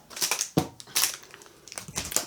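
Plastic packaging around a 20-metre roll of cross-stitch fabric is torn open, producing several close crinkling, crunching bursts with short pauses in between.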